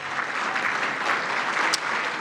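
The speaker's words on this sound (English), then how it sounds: "Big round of applause for all those people." An audience at a chamber of commerce honors awards event applauds steadily, a dense, even wash of clapping filling the room without pause and no voices over it.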